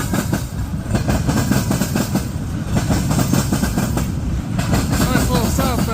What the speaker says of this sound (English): Nice little southbound train.